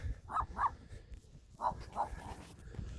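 A dog barks a few times nearby, two quick woofs then two more after a pause, over low room noise.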